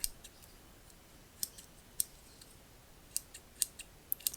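Sharp metallic snips of scissors opening and closing, a scattered series of crisp clicks with short pauses between them, close and fairly quiet.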